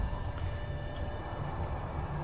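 Steady rain falling in the video game Fallout 4, a continuous broadband hiss with low rumble underneath, even and unbroken with no talk.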